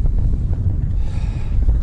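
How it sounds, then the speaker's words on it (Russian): Wind gusting across a large frozen lake during ice fishing, a steady low rumbling roar buffeting the microphone with no other sounds. "Как обычно, ветрено. Здесь всегда ветрено."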